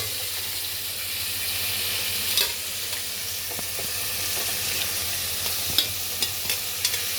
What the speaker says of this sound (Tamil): கட் பண்ணி வச்சுருந்த வெஜிடபிள்ஸை நம்ம இப்போ ஆட் பண்ணிக்கிறோம் இந்த ஸ்டேஜில். இப்போ நல்லா வந்து வதக்கணும்.